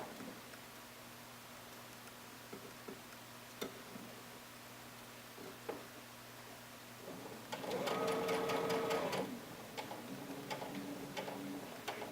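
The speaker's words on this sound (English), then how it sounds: "I'm going to take it to my machine and baste it up" A sewing machine stitches a basting seam on a doll dress. Scattered soft ticks and clicks lead into a loud, close burst of rapid mechanical stitching lasting about two seconds, followed by quieter clicking.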